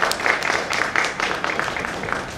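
An audience at a retirement function claps steadily, a dense patter of hands that stays even and fairly close, with no talk over it.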